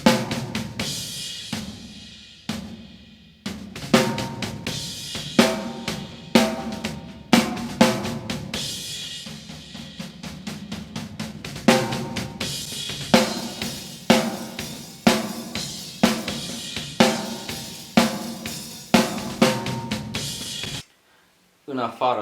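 Rock kick drum recorded with two microphones, one on top and one underneath, playing a steady run of loud punchy thumps with other drum hits, brief pauses near the start and a short silence near the end.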